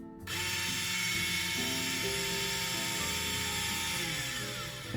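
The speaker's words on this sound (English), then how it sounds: "So this is the Edge Plus sound." Starseeker Edge Plus coffee grinder motor starting up and running steadily with a whirring, slightly rattling mechanical grind, close and constant throughout.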